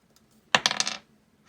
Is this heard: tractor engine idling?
no